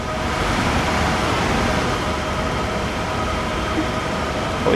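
Avanti West Coast Pendolino tilting train in Train Sim World 5, running near Watford on the Down Fast line: a steady, loud rumble of wheels and traction noise that holds constant throughout with no voices.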